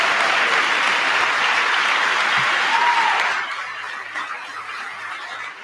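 Applause from an audience at a televised presidential address to Congress, a steady broad wash of clapping that thins out partway through and fades to a few scattered claps.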